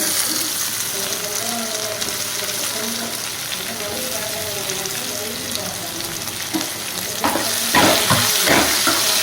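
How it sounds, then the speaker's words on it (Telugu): Potatoes frying in a pan for a cucumber, potato and tomato curry, a steady low sizzle with stirring, then louder splashy water or clattering bursts near the end. "ఇవన్నీ దుంపలు వేస్తున్నాము"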